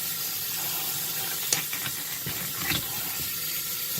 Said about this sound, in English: So go ahead and wash your celery.